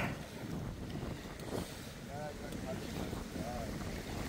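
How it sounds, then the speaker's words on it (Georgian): Steady, loud wind roar buffets the microphone over a choppy reservoir with waves during feeder fishing at the Tbilisi Sea, with a few brief faint tonal squeaks drifting through. "ქარი ამოვარდა, მეგობრებო,"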